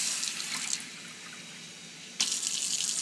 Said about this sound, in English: We're going to fill it 3 times with warm water.